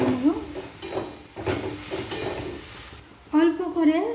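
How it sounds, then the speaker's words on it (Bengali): Spoon scraping and stirring spicy egg curry in a frying pan with a light sizzle underneath, in several rhythmic strokes at close range, with a voice speaking over parts of it. "এরপর সব উপকরণ খুব ভালোভাবে নাড়াচাড়া করে নেব।"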